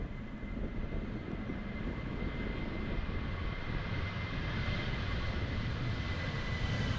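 An airliner lifting off late into a strong headwind at Amsterdam Schiphol, its jet engines a continuous broadband roar heard alone at a distance, steady in level and rising slightly in pitch.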